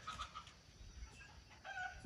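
Chickens clucking and calling at a farm where birds are kept for sale, several short squawks near the start and a louder burst toward the end over steady low rumbling background noise.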